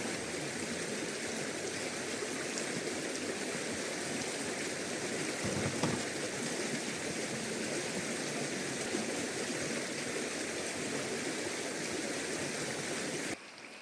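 A small river flows through a valley beside a campground near hills and tea gardens, a constant, close rushing of water that stays even throughout with no voices.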